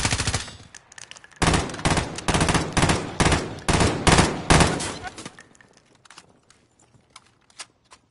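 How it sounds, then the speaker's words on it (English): Hostile gunfire in Warzone on PS5: rapid automatic bursts, a short volley then a longer sustained stream of close, loud shots, tapering into sparse distant pops and quiet near the end. "Steven, hostile fire"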